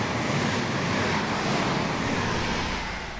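A DB BR 101 locomotive passes in Train Sim World, a loud, steady rushing roar filling the whole stretch and easing slightly at the end, with no talking.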